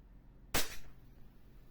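A single sharp pop from a WE Glock 17 Gen 5 airsoft gas pistol, a loud crack that decays quickly into a faint hiss, with quiet background before and after.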